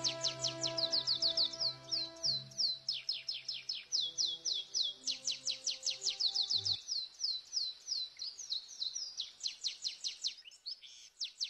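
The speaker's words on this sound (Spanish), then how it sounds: "Las aves aprovechan la ocasión y se acercan a beber a sus orillas" Wild birds such as canaries, tits and chaffinches sing beside a seasonal pond: rapid, bright trilling phrases repeat almost continuously, while a faint low hum fades out partway through.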